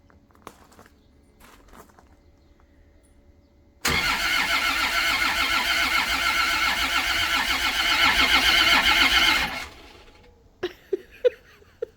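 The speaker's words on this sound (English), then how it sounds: "It's cranking." A long-neglected Land Rover Discovery's engine cranks over in a loud, steady whirring burst lasting about six seconds, starting abruptly and cutting off, with a few sharp clicks just after and no talk.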